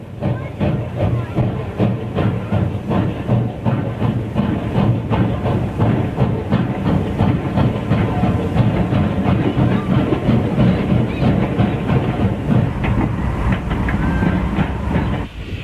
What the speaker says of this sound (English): Another one of the beautiful 482 mountain types heads northbound with a passenger run.